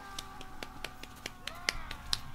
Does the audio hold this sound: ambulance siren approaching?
no